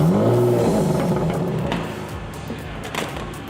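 A Jaguar F-Type 400 Sport drives into a shop, its engine note steady and fairly close before easing down, with a few light clunks and knocks as it rolls in.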